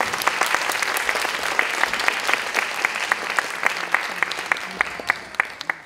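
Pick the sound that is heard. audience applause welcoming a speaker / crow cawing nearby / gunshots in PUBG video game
audience applause welcoming a speaker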